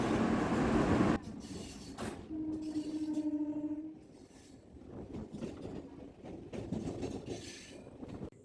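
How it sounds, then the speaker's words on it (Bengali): A moving passenger train carries a rider aboard: a continuous rumble of wheels and carriage, a sustained tonal hum near the middle, and fluctuating clatter, heard from inside with no speech. "ট্রেনে উঠেও গেছি, ট্রেন চলে এসছে।"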